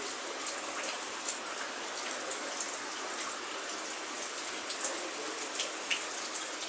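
Heavy rain falls at a house with a garden in Kollam, Kerala. A constant close patter and hiss is dotted with sharper drips and drops throughout, with no voices.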